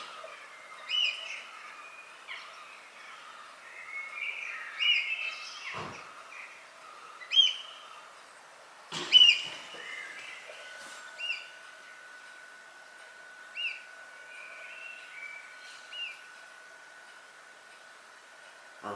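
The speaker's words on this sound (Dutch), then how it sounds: "Vogeltjes, hè." Small birds chirp and tweet intermittently outdoors on a heavily overcast day, short scattered calls at a moderate distance over a faint steady hiss, with no one talking.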